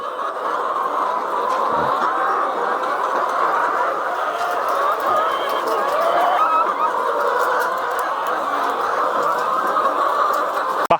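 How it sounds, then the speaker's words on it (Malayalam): BV380 hens on a farm where eggs are being collected, a dense, continuous chorus of clucking and murmuring from many birds, steady and fairly loud throughout. "ദേ ഇത് വന്നിട്ട് ബി വി ത്രീ എയ്റ്റി കോഴികളാണ് കേട്ടോ"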